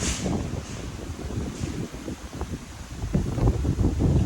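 Steady gusts of wind roar across the microphone with a soft rustle of leaves mixed in, constant and fairly loud throughout with no voices.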